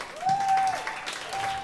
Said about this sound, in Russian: Им аплодисменты.